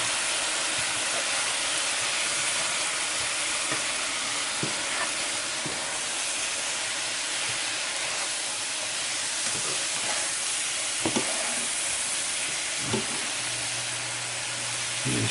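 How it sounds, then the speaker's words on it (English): Chopped onion frying in a pan for a chicken, onion and rice dinner, giving a steady, dense sizzle and hiss throughout with a few faint clicks and clatters from utensils. "the onion is starting to get limp from being cooked"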